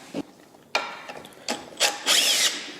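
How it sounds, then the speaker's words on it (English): Ratchet wrench backing out an inverter bolt on a Tesla Model S drive motor during a teardown, several short bursts of clicking pawl ratcheting, close and distinct, growing longer toward the end. "I'm going to have to take this one inverter bolt out in order to get this nipple off."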